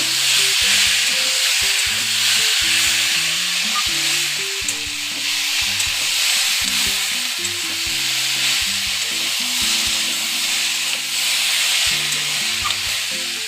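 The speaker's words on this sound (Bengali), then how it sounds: "ভালোভাবে নাড়িয়ে চাড়িয়ে নেব।" Mixed vegetables frying in a pan with a little sugar, a continuous loud sizzle and hiss with steady stirring scrapes throughout, close up and uninterrupted, no talking.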